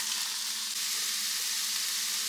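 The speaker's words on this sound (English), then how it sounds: "I'm going to add in my ground chicken that I browned up already." Browned ground chicken sizzles steadily in a hot pan, a loud, even frying hiss that runs without a break.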